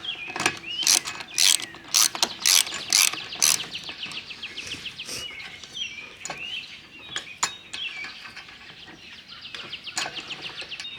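A ratchet tightens roof rack bolts on a 2023 Toyota 4Runner, rapid bursts of close metallic clicking separated by short pauses and a few knocks.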